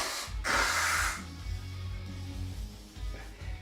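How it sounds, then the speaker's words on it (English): A person with a runny nose blows it hard into a tissue, a loud wet nasal honk lasting about half a second, followed by quieter snuffling and breathing up close. "Sorry for blowing my nose on camera."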